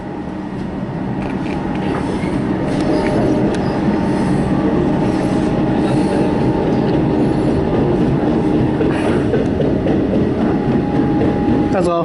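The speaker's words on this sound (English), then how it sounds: "There's a flat spot on the wheel." Melbourne metro train in motion, its wheels with a flat spot producing a loud, continuous rumbling clatter and rail noise, with faint voices under it.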